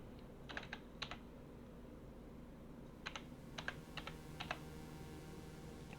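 Keys tapped on a computer keyboard while entering seed numbers, in short clusters of a few crisp clicks separated by pauses, faint against a low room hum.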